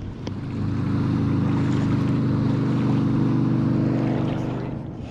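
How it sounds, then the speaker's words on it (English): A motorboat towing a water skier passes by on Galveston bay waters, its steady engine drone swelling and lingering near and loud for several seconds before easing off, with faint wind and water noise beneath. "Here comes the water skier again."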